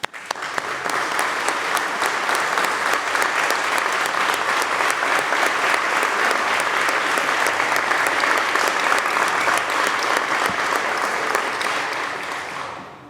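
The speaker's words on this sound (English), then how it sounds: "we'll give them a roaring round of applause" A chamber full of New York State Senate members and guests breaks into a loud, sustained round of applause, steady and dense for about twelve seconds before tapering off at the end.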